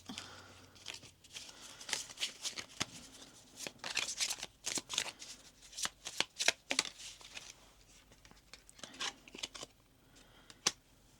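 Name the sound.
shuffling tarot cards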